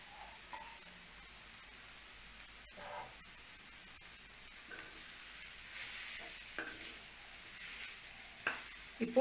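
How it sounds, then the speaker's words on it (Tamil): Boiled, mashed potatoes being stirred into a frying pan for stuffed bread bajji, making a faint soft scraping and low sizzle with a few light spoon knocks near the end. "இப்போது இதில் வேக வச்ச உருளைக்கிழங்கு போட்டுக்கலாம்."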